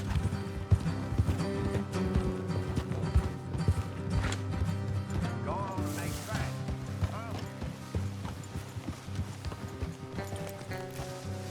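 Horse hooves clip-clop in a steady rhythm during a ride in the video game Red Dead Redemption 2, with creaking tack, a brief whinny, and game music and voices underneath.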